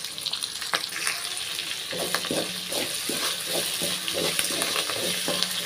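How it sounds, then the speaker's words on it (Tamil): Onions sautéing in a pan for a tamarind-style kuzhambu, a continuous close sizzle with repeated stirring scrapes and clinks. "வெங்காயம் வந்து நல்லா ப்ரௌன் கலர் வரதுக்கு நல்லா வதக்கிடலாம்."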